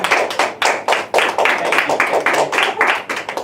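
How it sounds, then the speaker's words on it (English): An audience claps for a contestant in a clear rhythmic burst, with individual claps close and distinct rather than a blended roar, and a light voice underneath. "We're going to do this by a round of applause."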